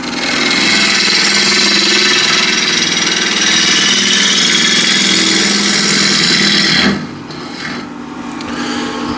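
Wood lathe rounding over the corner of a bowl, a loud continuous whirring scrape of the tool on spinning wood that drops abruptly to a quieter motor hum near the end.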